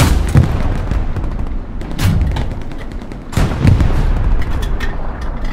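A German tank cannon in the video game Hell Let Loose fires three heavy, booming rounds, each a sharp blast with a rumbling tail, spaced a second or more apart over steady low battlefield rumble.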